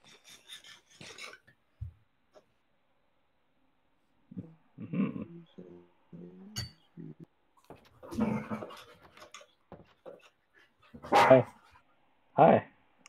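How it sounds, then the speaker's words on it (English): A dog barks several times from across a room, short sharp bursts scattered between stretches of quiet, with a few other household noises mixed in. "I heard the dog."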